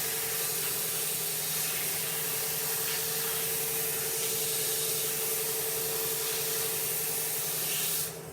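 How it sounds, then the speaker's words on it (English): Sandpaper is rubbed steadily against a wooden 2x4 block, giving a loud, continuous close scratching hiss that runs without a break for several seconds and then drops off at the end. "Sandpaper's still working as sandpaper, not polishing it."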